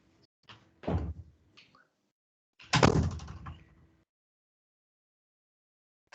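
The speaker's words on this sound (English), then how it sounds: "let me shut the door" A door is shut during a ward forum meeting, giving a couple of knocks followed by one louder bang with a short rattle, close by, then silence.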